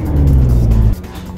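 A car engine in a driving lesson, a learner driver gently applying the gas, gives a loud steady low hum that cuts off abruptly partway through, leaving a quieter idle.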